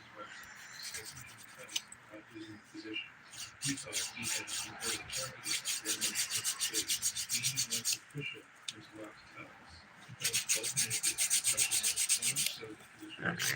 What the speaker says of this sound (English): removing any dip on my skin with the 100 grit side of the file